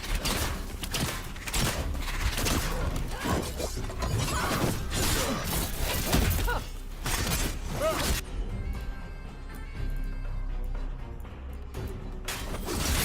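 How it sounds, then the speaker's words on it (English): Gatlock cannons open fire during combat in the video game Dragon Age: The Veilguard, with dense, rapid crashing bursts and metallic clatter for about eight seconds, then a quieter stretch with a lingering mechanical hum. "Watch yourself. They have gatlock cannons."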